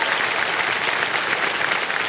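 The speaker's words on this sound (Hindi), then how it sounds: "और एक बार तालियां बज जाए उनके लिए।" Game show studio audience of Kaun Banega Crorepati applauding, a thick, sustained wash of clapping from a large crowd at constant loudness.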